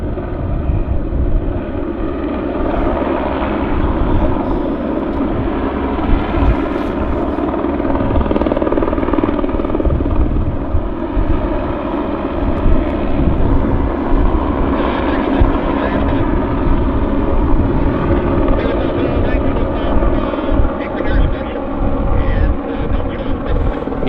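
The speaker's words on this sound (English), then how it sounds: "that helicopter is buzzing, so that's why we're getting a lot of noise" A helicopter buzzes steadily at Vancouver Airport, a loud, continuous rotor and engine roar that fills the whole stretch without letup, with faint voices at times beneath it.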